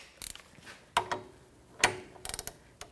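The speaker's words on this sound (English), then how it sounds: "I'm going to use my 1/2 inch torque wrench for this." A half-inch torque wrench clicks as it is tightened on a rear shock bolt of a 2011–2021 Jeep Grand Cherokee, giving a few sharp, close mechanical clicks and ratchet ticks at irregular intervals with no talking.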